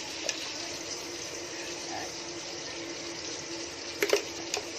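Water runs steadily into a cooking pot on the stove for a home seafood curry, a continuous even splashing rush at moderate level, with a few small clinks near the end and no voices.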